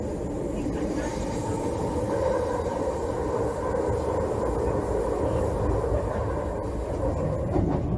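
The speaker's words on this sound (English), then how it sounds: "let's replay this video to see whether you can clearly differentiate the fan rubbing noise and the corrugation noise" A train runs on a curved track with fan rubbing and rail corrugation noise, heard as a steady, fairly quiet rumbling drone that holds throughout without pause.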